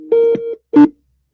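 Telephone tones from a call being placed back after a dropped connection: one long steady tone with a brief step in pitch, a short gap, then a second short burst, clear and close with no talking.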